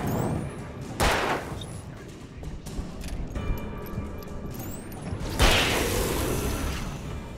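Gunfire in the horror action game Alan Wake, with two sharp broadband bursts about four seconds apart over a dense, rumbling game soundtrack and whooshing effects.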